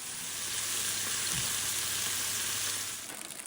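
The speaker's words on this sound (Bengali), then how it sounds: "ওইদিকে ল্যাম্প স্টেকগুলো মোটামুটি দু পিট ভাজা হয়ে গেছে" Lamb steaks fry in a pan with a steady, loud broadband sizzle that holds evenly for about three seconds, with a brief soft bump midway before the hiss eases slightly at the end.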